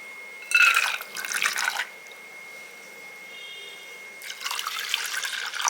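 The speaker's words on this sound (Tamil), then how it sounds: "தண்ணி விடுங்க" Water poured in two close, splashing bursts into a pressure cooker, each lasting over a second, separated by a quiet pause.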